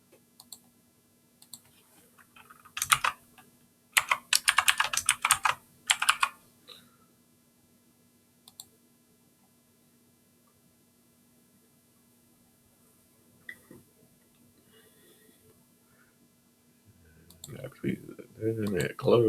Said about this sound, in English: I'll click those two individually and I will send them.